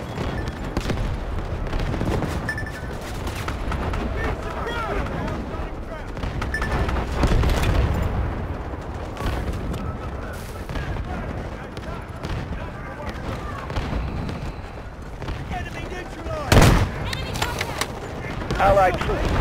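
An artillery barrage in the Delta Force game rolls on as continuous booming shellfire and scattered gunfire, with one sharp loud blast late on and voices talking over the battle.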